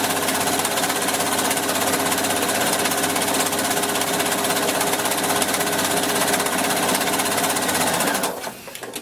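A sewing machine stitches steadily around the edge of blanket fabric, its fast continuous whir running loud and close for about eight seconds before it stops abruptly at the end.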